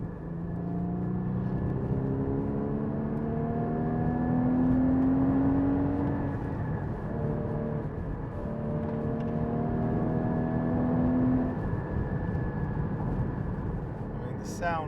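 A 2015 Porsche Cayman GT4 driving, its engine holding a steady droning note that swells and eases through gear changes, heard from inside the cabin, fairly loud and continuous.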